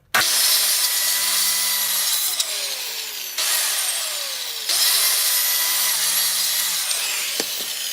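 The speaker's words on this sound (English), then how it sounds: "So we're just going to cut out a few scales of this cedar." Cedar wood being cut into knife scales with a power saw, likely a jigsaw: a loud, steady buzzing cut that runs nearly the whole time, briefly dipping and restarting twice.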